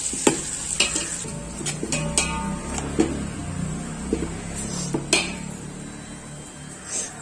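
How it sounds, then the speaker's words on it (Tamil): Onions sautéing in a pan for a chicken dish sizzle up close while a utensil scrapes and clinks against the metal in irregular strokes, with no talking. "வெங்காயம் ஓரளவு நல்லா வதங்கட்டும்"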